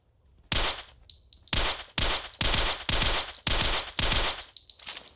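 QBZ rifle firing in Carnivores Jurassic Park Revolution, about eight loud close shots in a steady rhythm roughly every half second, each a sharp blast with a short decaying tail.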